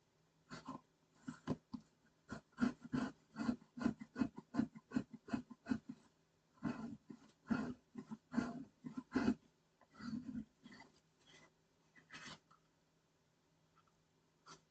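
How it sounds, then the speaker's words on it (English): Paper rubbed by hand onto a cork surface while making a square mini album: close, rhythmic scrubbing strokes in quick bursts, pausing now and then before a few last rubs and quiet. "I think the cork is not very porous,"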